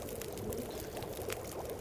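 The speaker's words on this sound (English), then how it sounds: "You can hear them boiling." Beans bubble in a pot over a fire in The Long Dark, a soft continuous watery simmer with faint gurgles and pops, quiet and steady throughout.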